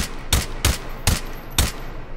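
Four suppressed gunshots from a rifle fitted with an oversized Chungus suppressor in the VR shooting game H3VR, evenly spaced about half a second apart, each a sharp muffled crack with a short decay, alone without talk.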